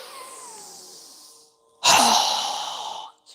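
Breath during a yoga breathing exercise, a long soft airy breath, a brief pause, then a louder rushing breath that fades gradually, close to the microphone.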